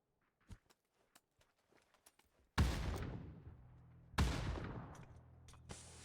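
Gunfire erupts in a battle royale video game during a tournament finals match: scattered light footsteps and clicks first, then two loud, heavy shot bursts with reverberant tails, the second following about a second and a half later.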